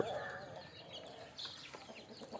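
Several native country hens cluck nearby inside their coop in a continuous jumble, with a brief higher squawk partway through and no voices.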